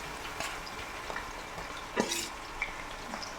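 Fish frying in hot oil for a Kerala fish pickle, a soft continuous sizzle with a few light scraping stirs and one sharper clink of a utensil against the pan.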